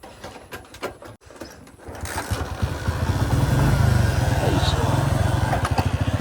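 A brand-new motorcycle in a Punjabi village: after a few seconds of faint voices and knocks, the engine starts up close and settles into a loud, even, rapid thumping idle that continues to the end.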